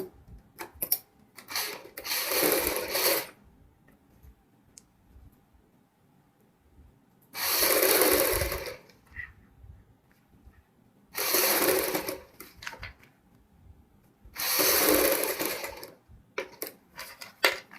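A sewing machine stitches the band strip along a kurti's high neck collar, folding the margin in as it sews, running in four separate bursts of steady whirring with quiet pauses between.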